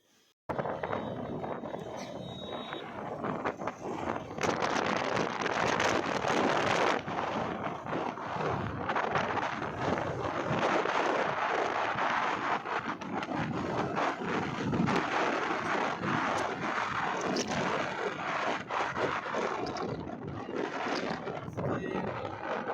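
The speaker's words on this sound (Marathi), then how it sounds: "आणि खूप वारा होता खूप म्हणजे खूपच" Strong wind roars steadily for the whole stretch at the hilltop Kuraneshwar temple in Satara, buffeting the microphone loudly with only brief gusty variations and no break.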